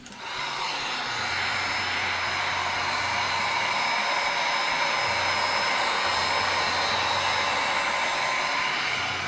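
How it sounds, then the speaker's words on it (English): A heat gun blows hot air over a resin-coated spring charcuterie craft board, a steady, close, loud whooshing roar that starts abruptly and holds for several seconds with no talk. "one more hit with the heat gun"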